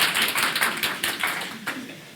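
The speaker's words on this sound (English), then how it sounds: "I'm not going to take any credit for this applause" Applause from the audience at a regular school board meeting, a dense wash of many hands clapping at once, steady and fairly loud, with a few sharper slaps standing out and no one speaking over it.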